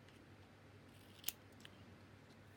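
Scissors make one sharp snip through paper scraps being trimmed for handmade tags, then a fainter click follows, both quiet against a low background hum.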